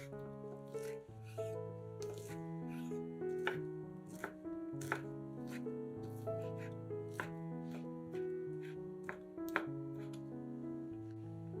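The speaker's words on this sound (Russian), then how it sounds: "150 грамм ветчины нарезаем небольшими кубиками." A knife chops 150 grams of ham into small cubes for a layered holiday salad, giving a steady run of light, close board taps beneath louder background music.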